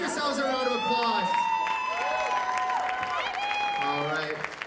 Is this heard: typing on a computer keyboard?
no